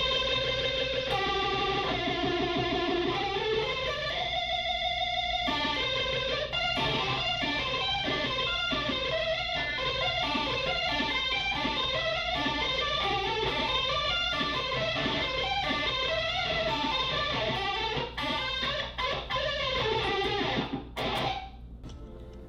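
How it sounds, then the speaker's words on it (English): Electric guitar run through an AllPedal Microdose phaser pedal, swirling, whooshing tones over sustained chords and picked notes, continuous and loud, ending with a brief noisy swell. "those were just a few different sounds and tones that you can get from the new Microdose phaser pedal"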